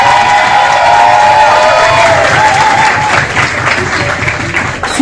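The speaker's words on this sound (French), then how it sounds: "Je crois que ça mérite des applaudissements." An audience at a management and human resources business school event breaks into loud, sustained applause mixed with cheering and scattered voices. The clapping thins slightly toward the end.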